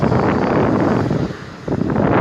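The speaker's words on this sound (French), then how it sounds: "il y a du vent aujourd'hui" Strong wind buffets the microphone outdoors in Paris, a loud rough gusting roar that briefly dips before surging back.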